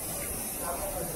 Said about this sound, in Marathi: स्प्रे बीचं काम सुरू आहे.